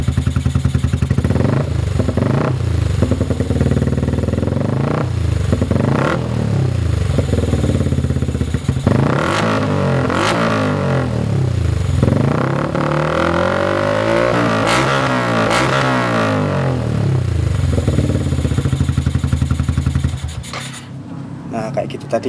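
Yamaha R15 V2 motorcycle with a modified exhaust, its engine blipped and revved repeatedly in rising and falling bursts, loud and close, with people talking throughout.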